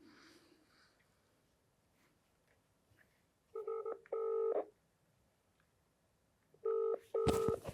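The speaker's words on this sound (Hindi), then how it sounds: "हम आपको आप ही के सामने फ़ोन लगाएंगे।" Telephone keypad dialing tones placing a call, faint rustling first, then two pairs of loud steady beeps, followed a few seconds later by another pair of loud beeps.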